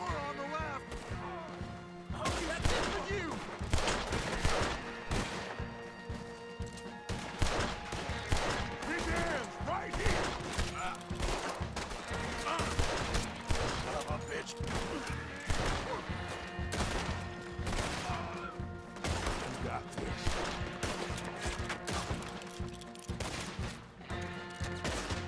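Repeated gunshots from a firefight in the video game Red Dead Redemption 2, fired across the whole stretch amid crashes and thuds, layered over a dense game soundtrack with occasional talk.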